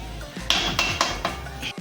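A metal pot of Kasaragod-style fried chicken biryani being stirred and covered, giving several sharp metallic clinks and knocks of spoon and lid at a steady pace, close and fairly loud.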